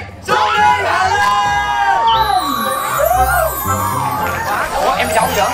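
A lively crowd welcomes a singer at a night market with loud whoops, shouts and cheering voices, close and energetic, mixed with people talking.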